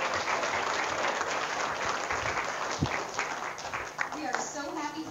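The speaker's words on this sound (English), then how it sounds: "If you could help me in giving a big round of applause to Dr. Grissom, that would be awesome." An audience at a conference opening session applauds Dr. Grissom with sustained dense clapping that fills the room, while a voice speaks over it.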